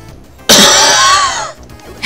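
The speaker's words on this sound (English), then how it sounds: "I just had to clear my throat" A single throat clearing from one person during a casual co-op game session, a loud, raspy burst of about a second up close, with brief quiet before and a faint breath or sound at the end.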